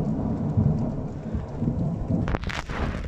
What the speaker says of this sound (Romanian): mă stropește pe ochi că am geamul întredeschis și mi-a venit câteva picături pe față mie